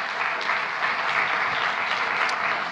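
Steady, full audience applause at a women in science symposium, continuous dense clapping from a large crowd with no talk over it.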